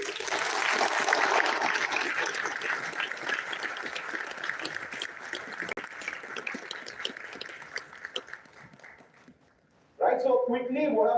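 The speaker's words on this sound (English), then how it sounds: "Now give yourself a big round of applause for being here today." A seminar audience at a pre-departure session gives itself a round of applause, a dense wash of clapping that gradually thins and fades over about nine seconds, then a speaker's voice comes in close and clear.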